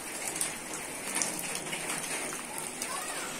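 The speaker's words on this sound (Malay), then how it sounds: "mungkin hujan mulai teduh" Heavy rain falls during a storm in Pariaman, pattering densely and continuously on nearby surfaces. It is a steady close hiss with scattered louder drops, and faint voices sit underneath.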